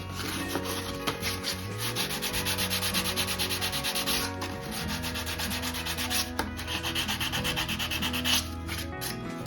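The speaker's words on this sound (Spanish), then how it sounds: "Nos ayudamos de una lija de grano fino" Fine sandpaper rubbed briskly back and forth in quick, even strokes, close and continuous with a dry, scratchy rasp.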